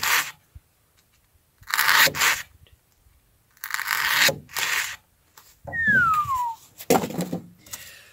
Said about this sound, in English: let's get our pool noodle out here. Cut off that little bit.